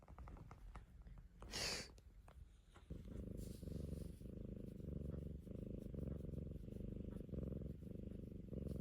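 A cat purrs close up in a steady, rumbling rhythm of rising and falling breaths, after a brief rustle at the start.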